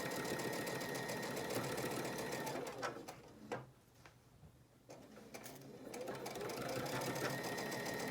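A sewing machine stitches the final quarter-inch seam of a four-point star quilt block. It runs as a steady, loud, fast whir, pauses briefly in the middle for a few seconds, then resumes at full speed.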